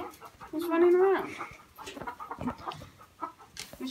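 A loose chicken at a summer camp clucks in a few sharp bursts amid scuffling and commotion as people chase and catch it, with voices around.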